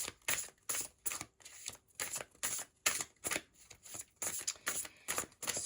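Oracle cards shuffled by hand for a reading, a run of crisp riffling bursts in a steady rhythm, close and moderately loud, with no talking.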